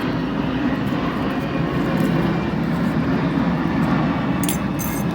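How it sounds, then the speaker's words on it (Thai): A passing airplane gives a steady, loud, broadband roar that holds evenly throughout, close and dominant, with no voices over it. "ฟังเสียงซาวเครื่องบินก่อนนะครับ"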